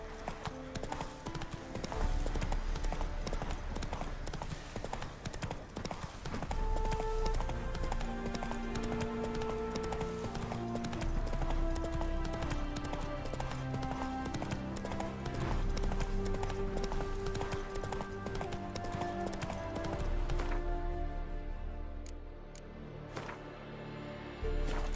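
Roach, the horse in The Witcher 3, gallops with steady rhythmic hoof clip-clops over a game score, loud and continuous, with a brief neigh and a voice near the end.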